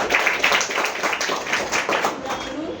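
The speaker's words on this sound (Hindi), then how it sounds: "एक बार जोरदार तालियां" An audience at a business plan presentation in Delhi claps for a speaker, a steady patter of many hands filling the room at close range without a break.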